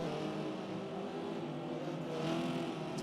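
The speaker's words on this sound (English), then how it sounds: "Darkser rolling up the hill in the Tide Pods car" A race car nicknamed the Tide Pods car climbs a hill in the Forza racing game, its engine droning steadily with a slight rise in pitch as it revs, close and continuous with no talk.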